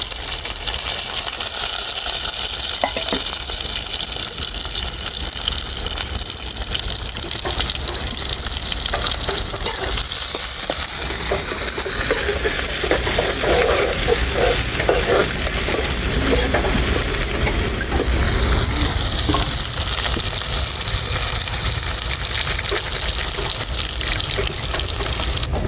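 Curry leaves frying with chicken skin in a pan, a dense, steady, loud hiss of hot oil that runs without pause.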